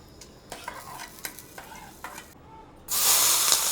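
Chana dal fries in hot oil in a pan, with several short stirring scrapes followed by a sudden loud burst of sizzling near the end.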